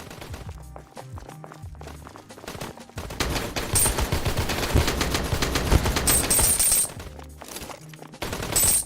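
Rapid gunfire from guns in a video game: bursts of automatic shots, sparse at first and then dense and loud through the middle, with brief pauses and a final burst near the end.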